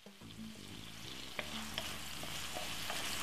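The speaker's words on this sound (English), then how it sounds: "I'm just gonna let that fry for another 4 to 5 minutes" Vegetable fried rice sizzles steadily in a pan, a continuous close frying hiss with occasional stirring knocks and scrapes, no voices.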